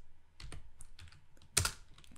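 Python code being typed on a computer keyboard: a steady run of close, light key clicks with uneven rhythm, ending in a sharper cluster of strokes.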